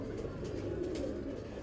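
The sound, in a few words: pigeon cooing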